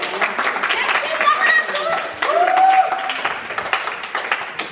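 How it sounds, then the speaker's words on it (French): An audience claps for the parents at a community gathering, a moderate round of applause with voices talking and a whistle-like tone over it. "Une bonne main d'applaudissements pour vos parents pour tout ce qu'ils font"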